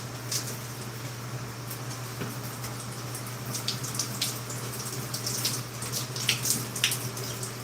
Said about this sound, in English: And rinse this hair.